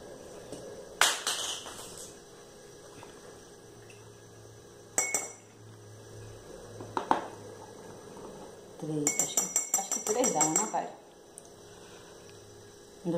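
A metal spoon clinks against a cup while stirring honey with propolis into tea, with scattered taps and a busy burst of rapid clinking, over a steady electrical hum.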